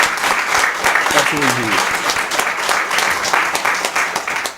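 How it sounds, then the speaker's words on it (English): A city commission meeting audience in Kansas applauds a police department's accomplishment, with steady, dense clapping filling the room throughout while someone speaks briefly over it near the start. "please join me in a round of applause"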